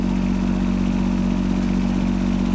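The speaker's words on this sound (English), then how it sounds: "I put too much downward force on the blade, it sends the tractor headed over." A tractor engine runs at a steady, heavy drone while pushing snow with a front blade, a constant loud rumble with a faint clattering texture and no pauses.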